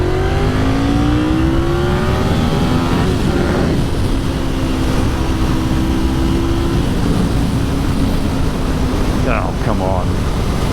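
Motorcycle, a Triumph Sprint 955i ST or Honda VFR750F, accelerating in second gear with loud engine tones climbing steadily, easing, then pulling again over constant wind roar; no talking.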